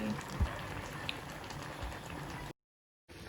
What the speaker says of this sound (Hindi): पकाओ पकाओ पकाओ, मैगी को पकाओ अच्छे से।